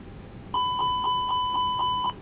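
Airbus cockpit fire warning chime sounding during the engine 2 fire test in the ToLiSs simulator: seven rapid, evenly spaced electronic dings in a steady loop, loud and clear, then an abrupt stop.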